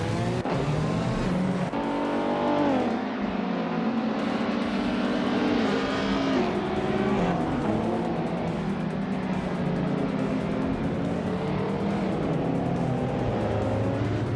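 Race cars scream along in a racing video game, their engines rising and falling in pitch as they accelerate and pass, loud and continuous throughout.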